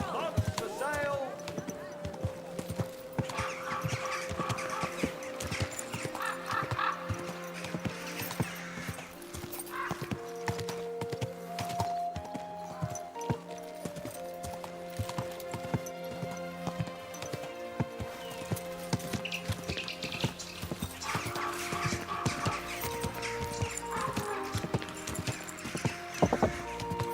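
A horse's hooves clip-clop steadily on hard ground in the video game Kingdom Come 2, in a continuous rhythmic gait heard under background music and ambient town noise with people talking.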